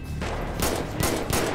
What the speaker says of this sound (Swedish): De skjuter på den bilen ju! Ta hit alla bilar vi har, det skjuts från flera personer.